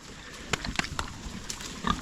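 Pigs raised in a torn-up pasture paddock on a regenerative farm give a series of short, low grunts and snorts at close range over faint outdoor background.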